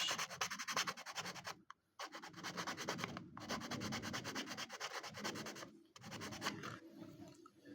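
Rhythmic rubbing strokes of sandpaper on a handmade wooden minnow lure body, a steady scratchy back-and-forth close to the mic, broken by a few brief pauses.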